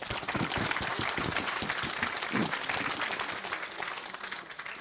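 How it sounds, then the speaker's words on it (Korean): An audience claps in sustained applause that stays full and dense before easing slightly toward the end, with faint voices mixed in. "박수를 보내십시오"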